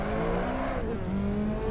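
A race car engine held at full throttle in Assetto Corsa, a steady loud buzzing drone with rising harmonic tones and a brief gear-shift dip, heard alone without speech.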